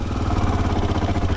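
Royal Enfield Himalayan 450 motorcycle engine running at low revs with zero throttle, a steady close mechanical thrum with faint clatter, continuous and alone for just over a second.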